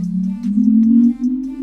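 A short synthetic electric-vehicle tone from an MG Cyberster electric sports car hums at a steady low pitch, swelling slightly and wavering, with faint higher electronic chirps layered on top.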